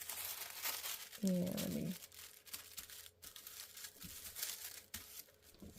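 Scissors cut through a thin tissue-paper New Look 6603 sewing pattern, producing soft rustling and crinkling that runs throughout, close and quiet, with a brief spoken phrase partway through.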